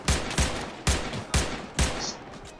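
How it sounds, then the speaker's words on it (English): Rapid gunshots ring out in a block-style survival game, five sharp loud cracks spaced about half a second apart, each with a short ringing tail, with no voices. "I think there's a guy on top of the hill shooting."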